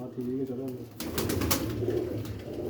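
Pigeons coo softly nearby as birds are freed, with low throaty calls running throughout while someone talks over them.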